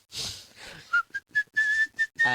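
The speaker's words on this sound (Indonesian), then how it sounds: "Bersiul dengan tersenyum" A series of short whistled notes from a person whistling while smiling, clear and close, starting hesitantly and then settling into a steady high tune with small breaks between phrases.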